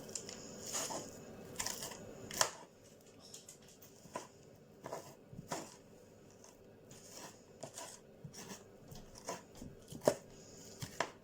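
A spoon scrapes seeds out of a roasted butternut squash, giving soft, irregular scraping taps and wet patters close by and fairly quiet, with no talking.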